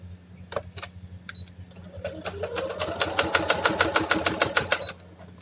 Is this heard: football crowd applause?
no